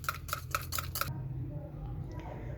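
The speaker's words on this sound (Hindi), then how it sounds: "अच्छी तरह से मैंने फेंट के मिक्स कर लिया इनको" Ingredients for an omelette paratha are beaten and mixed in a bowl with five quick, evenly spaced whisking strikes, then quieter kitchen sounds and low background hum.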